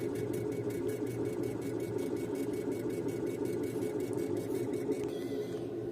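A laser engraver raster-engraves acrylic mirror with steady air assist, a constant mechanical hum overlaid with a rapid, regular back-and-forth pulsing of the moving head.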